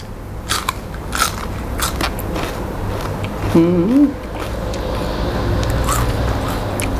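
Crunchy bites and chewing on grilled giant octopus tentacle, several close crisp crackles spread through the clip with a faint tonal murmur partway through.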